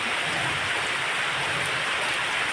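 Steady, dense heavy rain hissing without a break, close and loud, with no voices.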